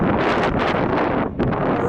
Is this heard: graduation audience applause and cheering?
no